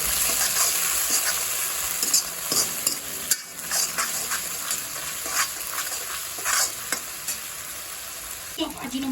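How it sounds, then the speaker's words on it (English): Chicken 65 marinade with vinegar and soy sauce stirred in a hot pan, a continuous bright sizzle with scraping stir strokes and occasional louder spatters throughout. "Mix it well."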